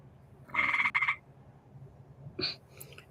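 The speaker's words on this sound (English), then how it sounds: "You hear that chirping? That is a frog." A tree frog giving two short rattling chirps, the first louder and longer, the second brief, over a quiet low background hum.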